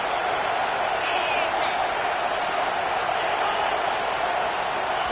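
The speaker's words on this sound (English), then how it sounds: "This crowd knows when to bring it." A college football stadium crowd at a Mississippi State at Arkansas game roars in a steady, dense wall of cheering that holds loud and unbroken throughout.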